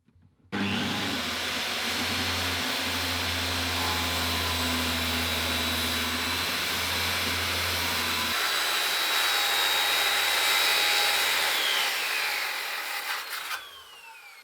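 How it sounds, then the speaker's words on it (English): A circular saw ripping wood roars steadily for about eight seconds with a low motor hum. It then carries on as a high whine before spinning down at the end. "So this here is my circular saw."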